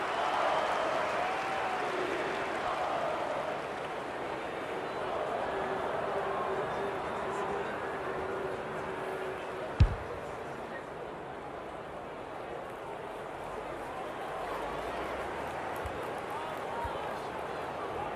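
Stadium crowd noise from the AFL 26 video game during a Geelong versus Brisbane Grand Final, a broad steady roar at moderate level with a single sharp knock partway through.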